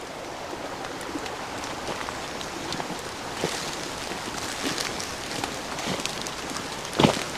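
Steady rain pattering through a tree canopy in the woods, a constant dense hiss of drops with scattered sharper taps and one louder close knock near the end, heard alone without talking.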